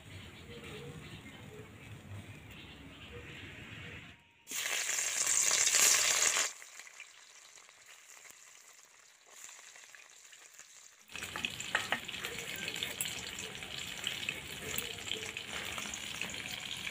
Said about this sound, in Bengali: এখন নুন হলুদটা দিয়ে ভালো করে মাছটা ভেজে নেব।